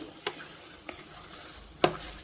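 Bobbatlu cooks in a pan, with a faint sizzle and soft stirring scrapes broken by three sharp metallic taps of a utensil against the pan.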